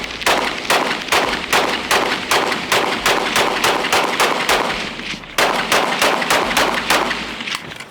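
An FN 5.7 pistol fires a rapid string of sharp, loud shots outdoors, around a dozen in quick rhythm, then a brief pause and several more.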